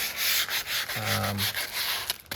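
Rhythmic back-and-forth strokes of sandpaper hand-sanding a new wood window, close and continuous, with a brief low hum in the middle.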